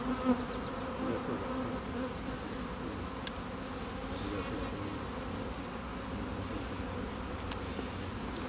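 Honey bees hum at an open hive during an inspection, a steady dense buzz close by that holds for several seconds, with no talking and a couple of faint clicks.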